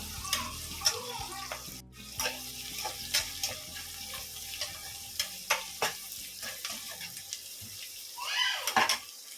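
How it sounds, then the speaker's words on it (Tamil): Whole onions and green chillies frying in a pan for mutton biryani: a steady sizzle runs beneath repeated sharp stirring scrapes and clinks of a utensil, close and moderately quiet, with a brief soft voice partway through. "வெங்காயம் நல்லா வதங்கிடுச்சு"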